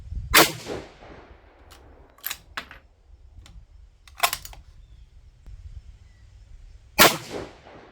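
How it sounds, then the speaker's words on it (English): A 6 GT rifle fired from a bipod and rear bag lets off four sharp, sudden cracks spaced a couple of seconds apart, with small clicks and handling noises between shots and no talking. "we're going to go ahead and shoot a 5-shot group with bipod and rear bag"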